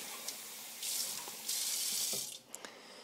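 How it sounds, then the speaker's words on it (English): Water runs from a tap into a cup in two loud, close bursts of bright splashing hiss, separated by a short pause and followed by a few small drips and clinks. "I fill a cup with water"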